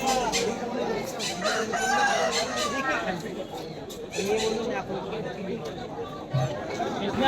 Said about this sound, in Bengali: এখানে যে মোরগটা দেখতে পাচ্ছ